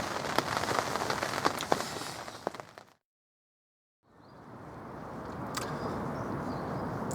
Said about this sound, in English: literally the heavy rain came down all night